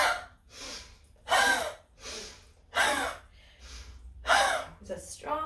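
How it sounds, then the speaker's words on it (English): Four strong forceful breaths during a core warm-up exercise, each a loud sharp exhale with an arm strike like swinging an axe, spaced about every one and a half seconds, with softer inhales between. "So it's very strong breaths."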